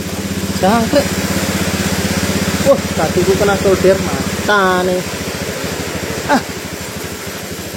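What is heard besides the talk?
Honda Beat scooter engine starting and idling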